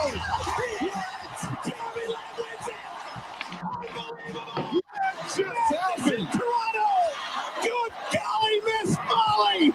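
A large sports crowd roars, cheers and yells continuously, loud and dense, with laughter and voices mixed into the noise.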